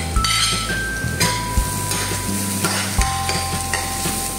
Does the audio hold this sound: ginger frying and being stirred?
yes